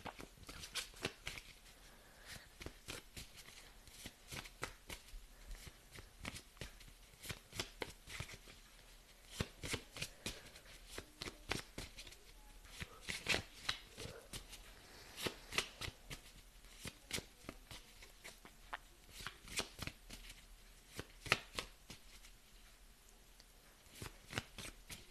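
Astrology cards being shuffled for a tarot-style card reading, a long run of crisp, close riffles and slaps repeating in quick irregular bursts with no speech.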